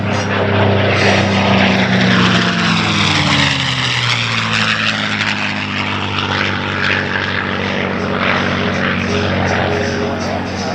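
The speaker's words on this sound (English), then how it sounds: "Going to bring it across the show center in a high-speed photo pass" A P-51 Mustang propeller fighter makes a high-speed pass over show center at an air fair, its engine roar loud and steady throughout, with a clear pitch drop as it sweeps past.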